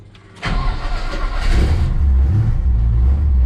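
Car engine fitted with a Holley double pumper carburetor cranks and catches after a short quiet lead-in, then settles into a loud, steady running note with a slight rise in revs, close up and with no talk.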